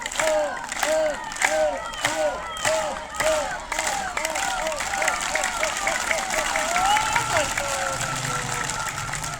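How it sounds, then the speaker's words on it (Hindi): Students at an inter college assembly chant drawn-out 'Om' tones together, then clap in rhythm as a crowd, the voices and claps filling the hall at close range. "पहले बजाएंगे ओम के नाम पे ताली"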